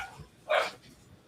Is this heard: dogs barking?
yes